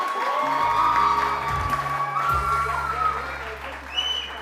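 Studio audience applause on a TV One morning talk show, a broad wash of clapping and some cheering that runs steadily throughout, with tonal music and background voices mixed underneath.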